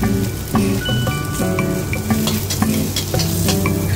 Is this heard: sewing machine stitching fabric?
no